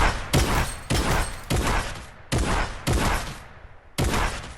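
Rapid bursts of gunfire from a fast-firing weapon in the video game Fortnite, loud and close, with about six rattling volleys separated by short pauses and no talking.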